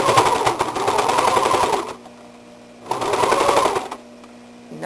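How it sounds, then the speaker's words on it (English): A serger sewing machine trims excess fabric off the hem of jogging pants, running in two loud, fast-chattering bursts of about two seconds each, separated by a quiet pause with a faint motor hum. "Serging off excess fabric."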